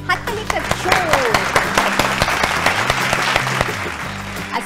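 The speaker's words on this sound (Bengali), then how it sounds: "হাততালি একটা জোর।" Studio audience on the Bengali family game show Sera Paribar bursts into loud applause after a contestant's song, with sharp distinct claps over a steady crowd patter and a musical tone running underneath.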